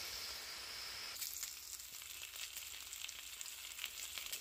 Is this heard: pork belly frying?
yes